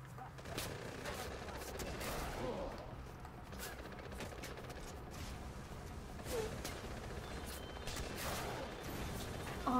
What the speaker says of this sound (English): I switch it to the rocket launcher.